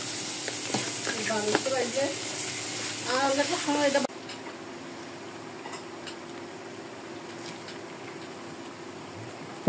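Food sizzles and spits in a hot pan with stirring scrapes, loud and close for about four seconds, then drops to a quieter steady hiss with a faint hum and a few light clicks.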